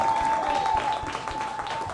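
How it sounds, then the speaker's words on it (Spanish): A church congregation applauds during a Spanish-language sermon, a dense, steady patter of many hands that stays loud throughout, with a thin sustained tone ringing beneath the clapping. "¿Cuántos aplauden al Señor?"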